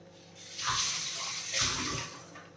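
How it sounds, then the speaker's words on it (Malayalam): Water pours into a mixer jar in two short gushing splashes, close and moderately quiet, the second burst following after a brief lull. "മിക്സിയുടെ ജാറിൽ കുറച്ച് വെള്ളം ചേർക്കുന്നേ"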